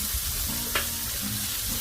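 Vegetables coated in olive oil cook on a Blackstone griddle with a steady, close sizzle, broken by one brief tap near the middle.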